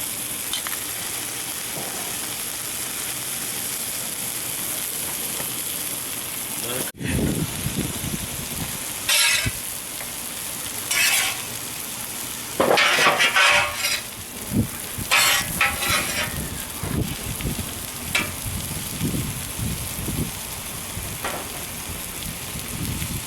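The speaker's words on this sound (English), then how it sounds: "Saute them in some butter." Mushrooms sautéing in butter crackle with a steady, close sizzle, joined by intermittent louder bursts of spattering and stirring clatter across the span.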